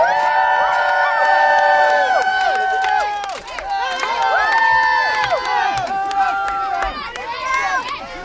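A video game jousting crowd cheers its favored knights, with many overlapping voices shouting and whooping loudly in continuous rising and falling bursts.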